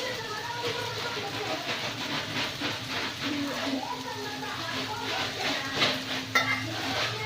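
Tomato chutney with crushed peanuts is stirred and fried in a pan, with a steady close sizzle and scraping under continuous talk in a busy household.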